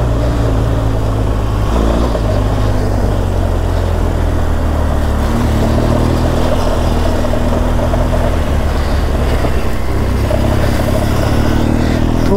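A BMW GS 1200 motorcycle rides over a rough, dusty rally-style track in Kutch, its engine giving a steady, loud drone with rumbling bumps throughout and no talking.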